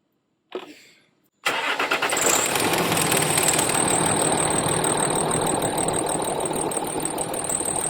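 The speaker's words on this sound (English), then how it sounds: "I'm going to start the vehicle now just to make sure we're not losing any fuel." A Land Rover Discovery 3 with the 2.7 TDV6 diesel engine gives a short whir, then fires up and settles into a loud, steady, clattering idle that runs on to the end, close by and with no talk over it.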